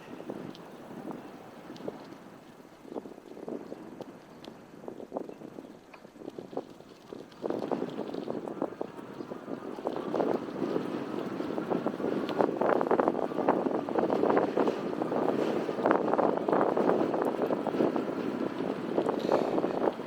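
Strong headwind buffeting the microphone on an Envo D50 electric bike test ride, a continuous roaring rumble that grows louder and gustier halfway through, with no talking.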